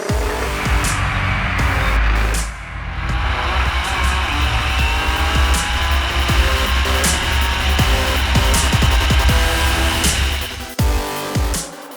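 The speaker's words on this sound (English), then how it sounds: "getting that all-wheel drive car sideways" An all-wheel drive race car at speed on the COTA circuit during a super lap battle, loud sustained engine roar close by that shifts in pitch and cuts off briefly near the end.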